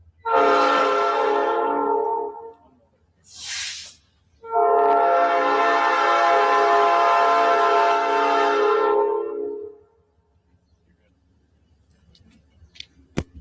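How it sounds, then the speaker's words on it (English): Train passes with its horn blaring in long, loud, harmonic blasts, a short bright burst between two sustained calls, then the horn stops and faint rumble and clicks remain. "we should have stopped the train."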